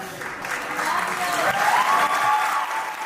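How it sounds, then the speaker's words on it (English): An audience breaks into a steady round of applause on a live morning show, the clapping sustained and fairly loud throughout with a voice or two faintly underneath. "Now he's getting a round of applause."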